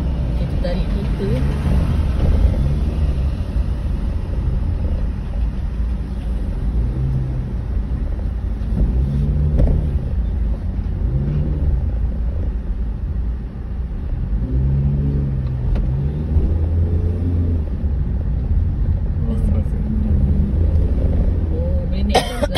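A car climbs a hill road up to Genting Highlands, its engine a continuous loud low rumble with rising and falling strain, heard from inside the cabin while people talk over it.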